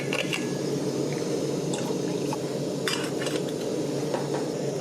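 Dehydrated chili con carne camping meal with rice being mixed: a spoon scrapes and clinks against the pouch or pot in quick repeated strokes over a steady outdoor background hiss, with soft wet squishing.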